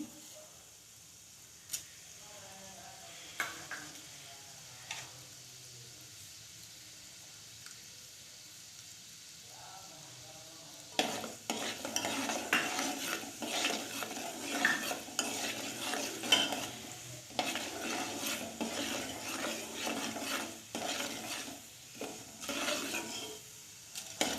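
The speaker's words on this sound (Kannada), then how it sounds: "ಎಣ್ಣೆ ಕಾದೈತೆ ನೋಡ್ರಿ ಈಗ ಉದ್ದಿನ ಬೇಳೆ ಹಾಕೊತೀನಿ ರೀ ಫಸ್ಟ್ ಉದ್ದಿನ ಬೇಳೆ" Urad dal hitting hot oil for upma: quiet stirring and scraping at first, then a loud, sustained crackling sizzle with spatters and utensil scrapes in a pan close by.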